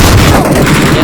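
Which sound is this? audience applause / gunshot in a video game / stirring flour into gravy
gunshot in a video game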